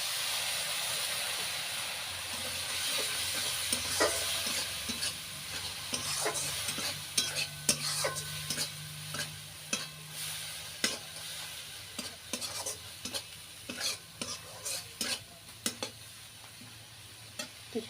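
Turmeric, chilli, coriander and cumin paste sizzles softly in a pan for a puna fish curry while a spoon scrapes and taps in quick irregular strokes, the clacks growing frequent and sharp toward the end with no talking.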